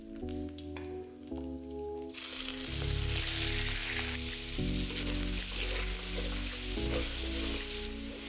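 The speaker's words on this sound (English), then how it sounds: "This time we're cooking the peeled shrimps." Peeled shrimps frying in oil in a pan for pancit bam-i: a loud, continuous sizzle starts suddenly and holds steady, with background music underneath and no talking.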